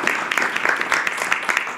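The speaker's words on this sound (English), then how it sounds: "this round of applause is for you guys" Steady applause from a stage hypnosis show audience honours the volunteers, a brief burst of dense, moderately loud clapping with no speech over it.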